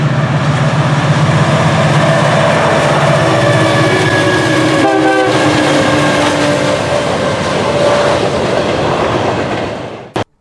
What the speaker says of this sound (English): caught the train as it was crossing the Meadow River southwest of Stuttgart